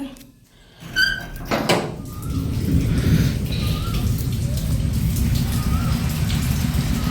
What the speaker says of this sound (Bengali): প্রচুর বৃষ্টি। এখন বৃষ্টি হচ্ছে।